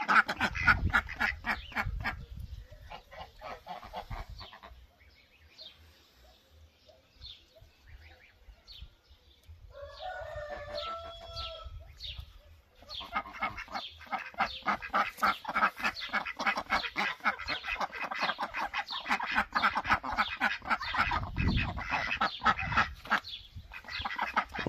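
Ducks and geese quack and honk in a busy, steady chorus nearby, with a brief quieter lull partway through.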